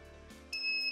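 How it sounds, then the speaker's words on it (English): Buzzer on an Arduino alarm system sounding a brief electronic beep tone that starts partway through and holds steadily, faint and close, with no talk. "the buzzer is working also"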